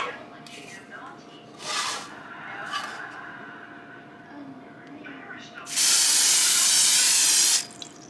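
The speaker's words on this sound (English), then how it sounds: "I am going to be using my olive oil cooking spray" A few short hissing spritzes from an olive oil cooking spray can, then one long sustained spray, close up, with faint background noise between bursts.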